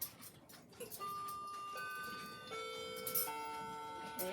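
A grandfather clock ticks faintly and steadily, with soft sustained ringing tones layered over the quiet ticking throughout, and no talking.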